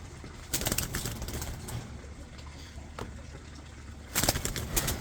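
A late-hatch blue-pied racing pigeon, likely a cock, sounds over a quiet room hum, with soft cooing and scattered wing flaps or rustles, including a louder burst of flapping near the end.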